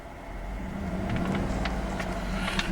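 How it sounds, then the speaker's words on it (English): The engine of a white 2012 Cadillac Escalade SUV is revved while parked, its low rumble swelling steadily from idle to a louder, fuller hum, heard nearby without talking. "I'm going to rev the engine."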